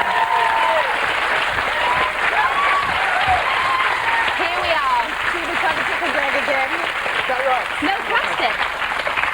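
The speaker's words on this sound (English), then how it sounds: "Ladies and gentlemen, let's give her a round of applause." A TV studio audience gives loud, sustained applause on a 1998 late-afternoon chat show, dense clapping that fills the whole stretch while people talk over it.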